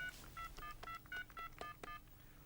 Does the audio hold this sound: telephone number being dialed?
yes